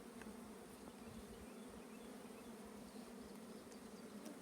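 Honeybees hum steadily from an opened hive colony during a hive inspection, a dense close drone that holds without a break.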